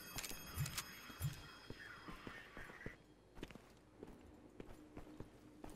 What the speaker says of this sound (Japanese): 足音する。